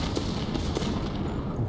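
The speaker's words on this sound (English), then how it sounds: "I was just in time for big explosions" Explosions erupt in a space battle in the game Endless Space 2, a dense rumbling barrage of low booms with a few sharper bursts, continuous and loud over the short span.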